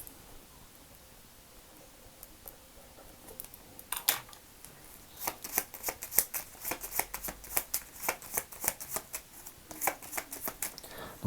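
Lenormand cards are shuffled by hand for a yes-no draw, soft close riffling and flicking bursts that come in quick irregular runs after a quiet start, with no speech.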